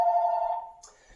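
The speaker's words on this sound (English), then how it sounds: "Pardon the phone ringing right there" A telephone rings once indoors in a spacious house, a clear sustained electronic trill that fades out, fairly close.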